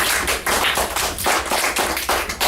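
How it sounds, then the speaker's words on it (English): Audience applause at a school observation event, a dense crowd of hands clapping continuously with irregular loud and soft swells, close and loud. "Let's give him a round of applause."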